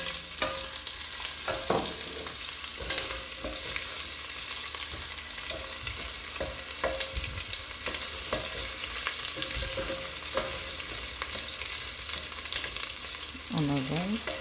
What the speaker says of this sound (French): je vais commencer par mettre les oignons.